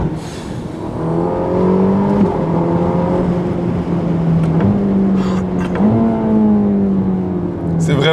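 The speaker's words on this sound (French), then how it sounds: "Là, on est quand même en mode race parce qu'il y a un petit tunnel" A Ferrari Roma in race mode revs hard through a small tunnel, its loud engine note climbing steadily and dropping briefly at each of several quick gear changes, with echo in the enclosed space.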